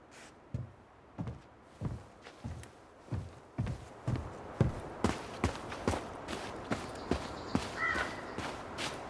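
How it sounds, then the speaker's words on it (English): Crows cawing outside a house in the video game Tell Me Why, a steady run of sharp, evenly spaced calls repeating roughly every half second, fairly close and clear, with no talking. "These birds should get a reward for watching the house all these years."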